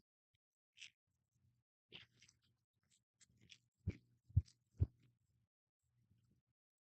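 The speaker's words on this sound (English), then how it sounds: "there's going to be crunch here because a big thing about Detroit style pizza is you have a crunchy undercarriage" Someone bites into and chews a crunchy Detroit-style pizza with a crispy crust, producing a few soft crunches and then three louder, close bites in quick succession in a quiet room.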